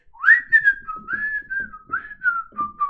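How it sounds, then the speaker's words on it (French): A person whistles a short melodic tune in an animated Tintin in America scene: a few sliding, clear notes, close and alone over near silence with faint soft sounds beneath. "il est en train de siffler"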